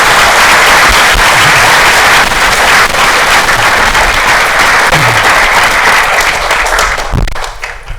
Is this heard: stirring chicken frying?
no